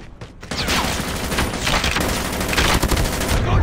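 Rapid automatic gunfire in a one-on-one video game match, loud and near, in continuous bursts filling the short clip.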